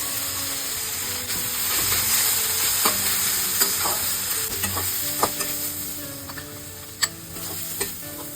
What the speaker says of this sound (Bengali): চিনি দিয়ে কিছুক্ষণ নাড়াচাড়া করে এবার বড়ির গুঁড়োটা দিয়ে দিচ্ছি